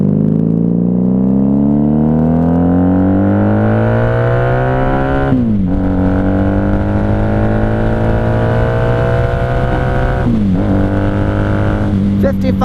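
A 1994 Honda Magna V45 VF750C motorcycle's V4 engine pulls loud and close through the gears, its pitch rising steadily during acceleration and then dropping sharply at each of two shifts before climbing again.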